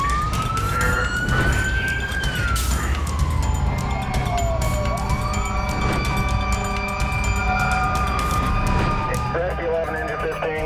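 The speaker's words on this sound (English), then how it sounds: "Fire trucks are on their way." Fire truck sirens wailing on an emergency response to a house fire on Brook Drive, one siren tone rising and falling continuously over a loud rumbling engine and road noise, with voices talking throughout.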